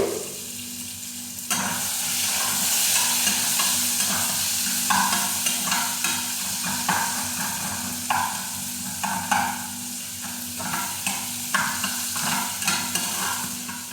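Onions, garlic, curry leaves and dried red chillies fry together in hot oil for a pumpkin-leaf tempering, giving a loud, continuous close sizzle broken by repeated scraping stirs of a spoon in the pan.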